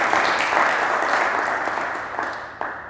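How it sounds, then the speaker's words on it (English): Audience at an academic surgical grand round applauds the communications staff, a dense, steady wash of many hands clapping close by that slowly tapers toward the end. "So give them a round of applause"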